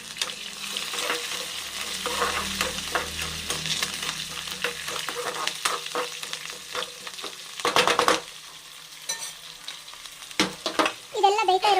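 Curry leaves drop into hot oil for avalakki, giving a steady, close sizzle with stirring scrapes and a few sharper crackling bursts toward the end.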